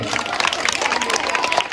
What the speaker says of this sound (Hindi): मयंक के लिए ताली बजाओ भाई